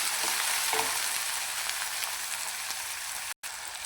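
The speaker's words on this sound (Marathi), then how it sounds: "कांदा एकदम खमंग फ्राय झालेला आहे" Onion frying in a pan, an even hissing sizzle like light rain that fills the clip, steady and fairly close, with a brief cut to silence near the end.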